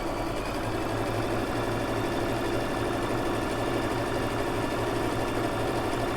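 A Brother LX3817 sewing machine runs at full speed with the pedal pressed all the way down, giving a steady, fast, close mechanical whir and rapid needle chatter that holds constant throughout.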